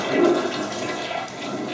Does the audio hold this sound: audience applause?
no